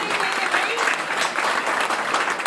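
A crowd at a Delhi party workers' convention applauds loudly, sustained rippling clapping close by and steady throughout, with a voice briefly audible underneath.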